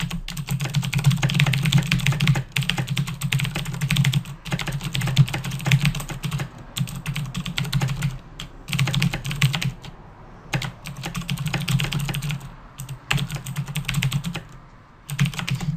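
Continuous close typing on a computer keyboard, bursts of quick keystrokes broken by short pauses, loud and clear with no voices.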